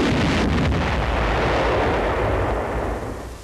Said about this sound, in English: 9 of the 33-pound rockets are fired against the sloping beach wall